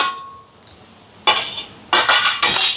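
A spoon scraping and clinking against a pot while chicken curry with curry powder is stirred, a few separate bright scrapes in quick succession, close and clear with no talking.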